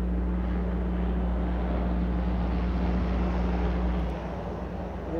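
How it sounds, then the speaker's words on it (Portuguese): A steady, heavy low rumble with a constant drone fills the whole stretch as a helicopter passes over a house, easing slightly near the end. "tá passando um helicóptero cima da minha casa aqui"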